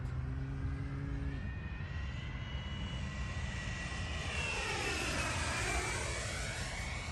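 An HSD T-33 RC model jet flies at half throttle with half flaps, its turbine whine steady and fairly loud, the pitch sweeping down then back up as it passes by.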